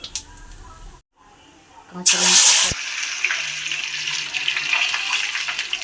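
Cooking oil with fennel seeds, heated in a pan to make homemade mango oil pickle, sizzles and hisses steadily at close range after a brief pause. Someone speaks over it.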